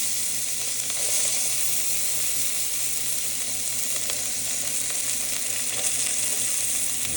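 Pork tenderloin sears in a hot pan with a steady, loud sizzle that holds evenly from start to finish, with no talking over it.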